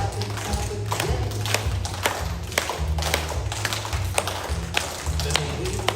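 Children clap along to a clap-dance story, sharp hand claps falling in a regular beat about twice a second over a low, looping musical backing.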